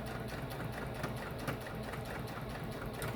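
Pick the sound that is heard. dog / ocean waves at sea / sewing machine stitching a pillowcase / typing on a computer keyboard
sewing machine stitching a pillowcase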